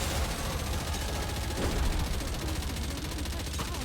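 Enemy gunfire in the mobile shooter Goddess of Victory: NIKKE, a steady dense rattle of rapid shots running throughout over game music and effects, fairly loud and continuous.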